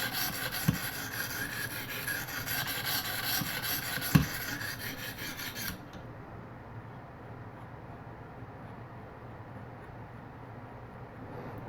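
A ViperSharp precision knife sharpener's stone rubs across a clamped blade in a steady close rasping for about six seconds, with a couple of light clicks, then stops and leaves only quiet room noise.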